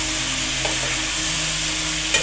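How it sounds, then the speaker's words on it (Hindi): Chicken jalfrezi with soy sauce is mixed in a hot pan: a continuous frying sizzle runs throughout, broken by a couple of brief, close spoon scrapes. "इसको अच्छी तरह मिक्स कर देते हैं।"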